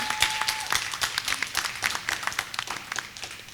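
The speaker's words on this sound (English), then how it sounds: "one more round of applause for our panel" An audience claps for a panel at an evening event, a dense, steady round of applause from a crowd indoors that carries on throughout before gradually easing off.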